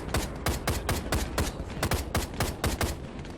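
Rapid, loud bursts of M16 rifle fire in the VR shooter Plastic Battlegrounds, a close, sharp string of evenly spaced shots firing continuously without talk.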